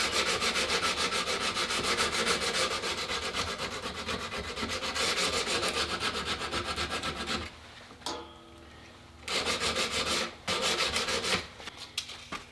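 Sandpaper is worked over the deeply pitted steel receiver of a Stevens Favorite Model 1915 rifle, making a loud, steady rasping rub that runs continuously, breaks off briefly a few times near the end, then resumes.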